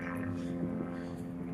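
A helicopter flies overhead outdoors, a steady low rotor drone heard continuously and moderately loud through a short stretch without talk.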